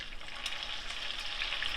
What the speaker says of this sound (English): I bet you can hear that sizzle.